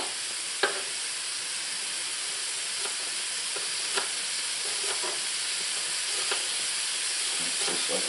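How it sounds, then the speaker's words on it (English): Hamburger sizzling in a pan over an open cooking fire, with a steady frying hiss and occasional sharp pops and crackles, continuous and fairly close. "What's sizzling is the hamburger."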